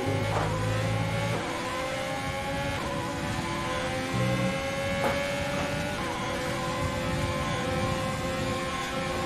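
A Formula 1 race car engine in the F1 2020 game at the Belgium track drones steadily at high revs, with shifting pitch and brief low-gear notes, a continuous loud whine with no talking.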